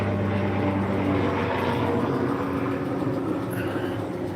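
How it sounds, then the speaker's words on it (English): A helicopter flies loudly overhead, a dense roaring rotor and engine wash that fills the whole clip, near and steady with a faint droning tone inside it, and someone talks under the noise. "Oh, it's a helicopter."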